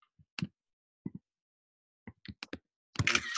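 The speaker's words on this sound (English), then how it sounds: "Just hear a bit of typing." Scattered keystrokes on a computer keyboard, a few isolated clicks and short bursts with quiet gaps between them, close and fairly crisp, no talking.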